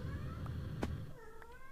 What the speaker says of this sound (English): my cat is going crazy in the background